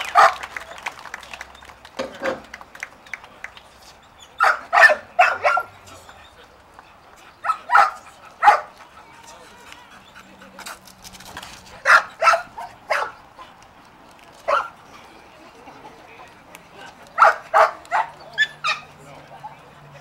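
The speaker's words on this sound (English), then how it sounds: "So he's told to let go, then he barks until I make another move." Belgian Malinois police dog on guard in an open field at a K9 demonstration, barking in sharp bursts and clustered volleys with short pauses, close and loud, with faint voices in the background.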